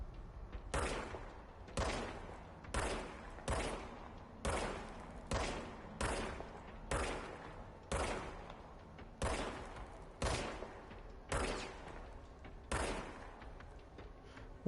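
Service weapon gunfire in the video game Control, a steady run of about a dozen sharp, loud shots spaced roughly a second apart, each with a short echoing tail, no talking.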